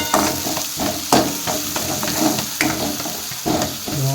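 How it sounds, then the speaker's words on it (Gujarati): Garlic stirred into a frying green turmeric curry, loud close sizzling broken by rhythmic spatula knocks and scrapes against the pan every half second or so. "લસણને નાખી અને થોડું હલાવી દેવાનું"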